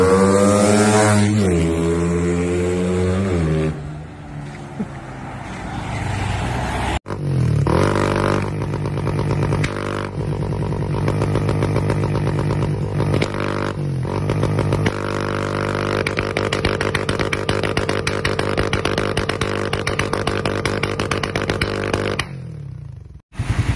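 A motorcycle engine with a rapid backfire remap revs hard and climbs toward its limit, with loud rising pitch sweeps and then sustained high revs full of crackling pops and rattle, close and continuous.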